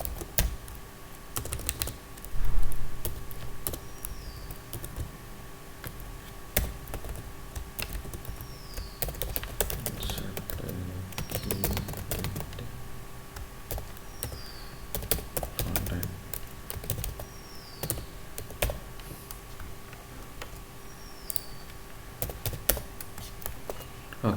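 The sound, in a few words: typing Java code on a computer keyboard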